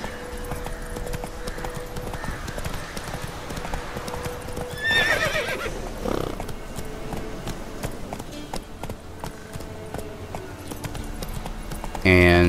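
In The Witcher 3 video game, a horse gallops with a steady, close clip-clop of hooves and gives a clear whinny partway through, while game ambience continues underneath.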